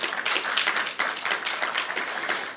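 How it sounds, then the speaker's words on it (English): Applause at a mentorship conference and book launch, honouring the organiser: a dense, steady patter of many hands clapping, fairly close and sustained without pause for a few seconds. "I believe she deserves another round of applause."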